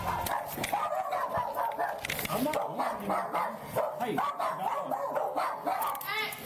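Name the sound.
dogs barking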